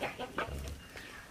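Seven-month-old hens and chicks in a backyard poultry house make soft, short clucks in a few quick bursts, close by against low background noise.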